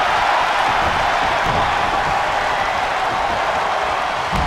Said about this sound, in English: Every person in this capacity crowd is on their feet.